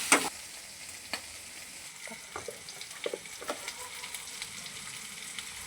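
Stuffed okra sautés in hot oil with a continuous soft sizzle. Sharp clicks and scrapes of a spatula stirring the pan break in now and then, close by and with no one speaking.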